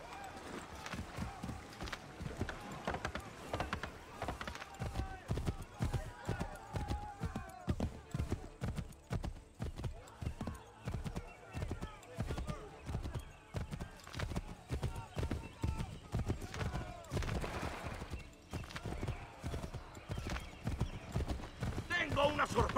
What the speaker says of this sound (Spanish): Caballo, corre.